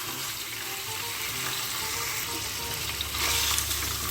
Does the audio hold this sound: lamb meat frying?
yes